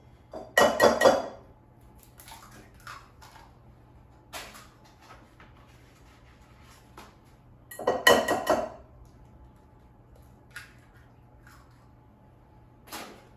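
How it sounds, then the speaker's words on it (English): Two eggs cracked one after another against a bowl for yellow cake mix cookies: two short, sharp clinking cracks roughly seven seconds apart, with quiet kitchen background in between and no talking. "So first I'm going to start off by cracking 2 eggs in a bowl."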